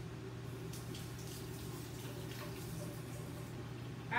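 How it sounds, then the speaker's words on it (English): Tap water runs steadily into a kitchen sink as hands are rinsed during cake-batter preparation, a faint constant hiss with a low hum beneath it and no talking. "I need to wash my hands"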